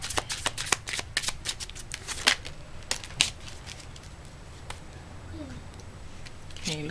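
Oracle cards being shuffled, a quick run of crisp riffling snaps that thins out into a few separate flicks, close and fairly quiet, with a voice speaking faintly in the background.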